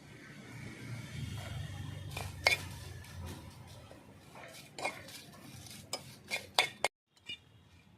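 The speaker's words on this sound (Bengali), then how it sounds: "শুকনো লঙ্কা ভেজে নেব খোলায়" Dry-roasting whole dried red chilies in a pan: a low crackling hiss with scattered metallic scrapes and clinks, ending in a short silence and a few sharp taps.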